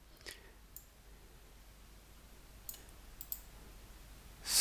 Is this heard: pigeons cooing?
no